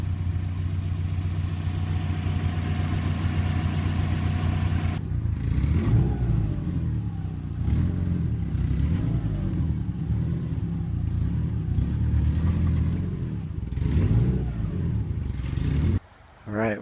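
A Subaru Forester with all-wheel drive revs its engine while pulling a load by rope, a steady mid-pitched drone that surges and falls in several pushes, close and loud, with a brief drop near the end.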